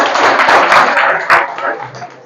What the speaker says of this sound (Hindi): ताली दीजिए इनके लिए।